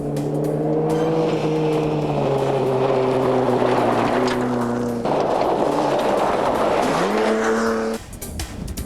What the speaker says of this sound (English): The small but potent Daihatsu Feroza of Brendan Powers and Bill Ewing races through the dust and rocks